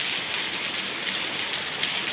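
Steady rain pours down in a dense, even hiss, close and loud, with no other sounds standing out.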